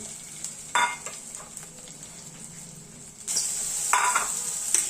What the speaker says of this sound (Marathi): मी परत एक अर्धा चमचा तूप टाकलेला आहे आणि वटाणे फ्राय करून घेतले